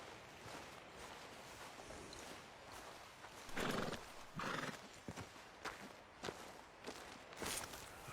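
Horses in Red Dead Redemption 2 clopping along at a walk with a few whinnies and snorts, hoofbeats coming in irregular bursts over a quiet outdoor ambience, fairly close with no talk.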